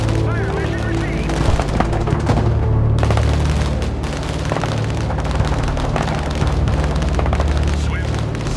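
Artillery fire mission in the video game Broken Arrow: a dense, continuous barrage of booms and rapid gunfire under game speech, loud and sustained throughout.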